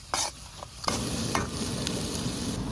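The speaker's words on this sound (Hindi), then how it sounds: "बारीक कटी हुई प्याज चला देंगे, अदरक, लहसुन, हरी मिर्च दरदरी कुटी हुई" Onion, ginger, garlic and green chili sizzle and fry in a pan for dal tadka, with a steady hiss punctuated by scraping stirs and clinks of the spoon, close and alone.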